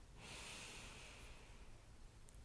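A slow, deep breath drawn in through the nose during a Pilates session, a soft airy rush that swells and fades over about two seconds, heard close and quiet.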